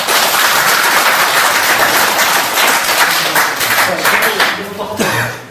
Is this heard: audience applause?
yes